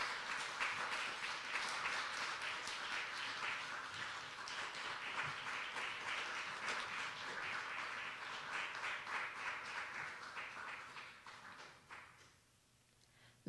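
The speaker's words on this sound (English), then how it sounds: "Let's give him a big applause." An audience at an honorary doctorate conferment ceremony at National Tsinghua University gives sustained, steady applause from many hands that fades out near the end.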